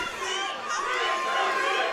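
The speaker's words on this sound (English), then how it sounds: "Big cheers for DC from the crowd so far" Crowd noise at a University of MMA fight night in Los Angeles, a continuous wash of cheering and chatter from many spectators, moderately loud and steady throughout.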